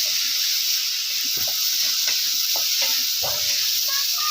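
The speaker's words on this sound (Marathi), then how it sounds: "मस्त अशी आपल्याला ही चटणी अशी भाजायची" Chutney roasting in a hot pan for an okra dish fills the sound with a bright, continuous sizzle, broken by soft scattered bumps and scrapes of stirring.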